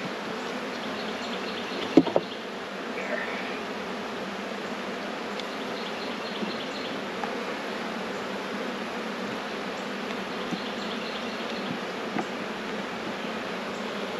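Honeybees buzz at an open hive during an inspection on a farm, a continuous close swarm drone with a few faint knocks and handling noises, no talking.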